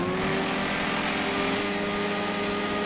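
A Kawasaki Z1000 and a BMW F800 accelerate hard on an open road, their engines droning loudly and steadily under heavy rushing wind noise with no break.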